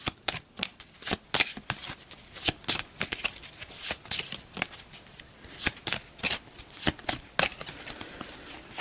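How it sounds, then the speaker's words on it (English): A deck of playing cards is shuffled by hand during a tabletop dungeon game, giving a run of crisp, rapid riffling bursts and taps repeating irregularly at close range. "So that'll be this deck. We'll also give this a crappy shuffle."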